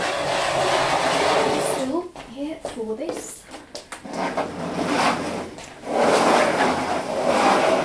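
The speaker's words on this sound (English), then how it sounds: "let me just quickly change my stool" Scraping, clunking thuds of a stool being shifted and adjusted, with a short spoken phrase in the middle and louder rustling toward the end.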